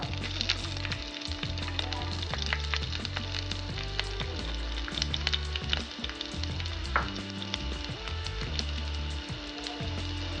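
Chopped onions fry in hot coconut oil with a continuous close sizzle, overlaid by a steady pattern of low tonal sound throughout.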